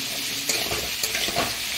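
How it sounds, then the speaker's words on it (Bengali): Potatoes frying lightly in a pan give a continuous close sizzle with soft stirring shuffles layered over it, steady and unbroken, with no voices. "আলুটা হালকা করে ভাজবো"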